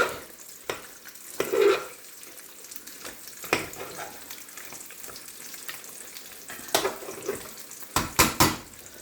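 Meat and potato curry stirred in a hot pan, a constant sizzle over which spoon scrapes and knocks against the pan recur irregularly, louder clatters near the end, no speech.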